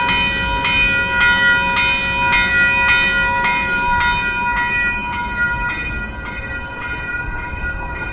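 A train passing close by, loud and steady, with a sustained multi-tone horn blast ringing over rhythmic clacking wheels and a heavy rumble that carries on throughout.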